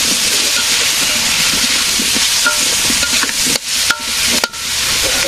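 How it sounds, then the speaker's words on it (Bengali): Eggplant is added to potatoes frying in a pan, giving a steady, loud, close sizzle with a few sharp scrapes and clinks of stirring near the end. "আলু ভাজি হয়ে গেছে এটার মধ্যে সবজি দিয়ে দিলাম বেগুন"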